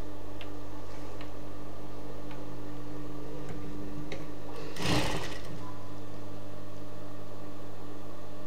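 Sewing machine stitching a folded hem on churidar pants, a steady low mechanical hum with faint ticking throughout, and one louder clattering surge near the middle, close and without talking.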